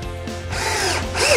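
A power drill drives screws into wooden slats of a DIY outdoor lounge chair, a steady close whirring motor with shifting pitch and a rising, louder burst at the end, no talking.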